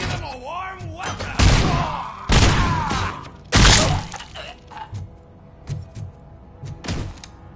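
Gunfire and impacts in the video game RoboCop Rogue City: heavy, loud bursts of shots and crashes, several big blasts then smaller thuds, mixed with in-game voices and a person talking.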